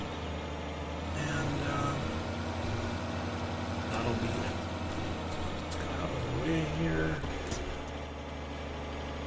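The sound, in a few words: truck hauling trailer in farming video game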